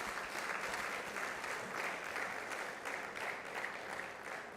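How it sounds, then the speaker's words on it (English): A conference audience applauds a panel at a data science launch event, continuous mid-level clapping for several seconds that thins slightly at the close. "can I ask us to give the panel a huge round of applause?"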